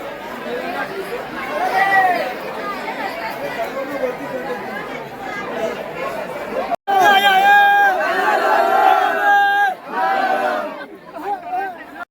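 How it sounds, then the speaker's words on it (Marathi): A large crowd chatters densely at the Ekvira temple during the Chaitra Navratri palkhi festival of 2024. The babble runs steadily, cuts out briefly, then resumes louder and nearer with some tonal, sung or chanted sounds mixed in. "आणि तुम्ही बघू शकता मित्रांनो की किती गर्दी आहे इथं"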